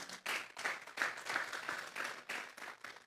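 Church congregation applauding in rhythmic, pulsing waves of clapping, faint and somewhat distant, with no talk over it.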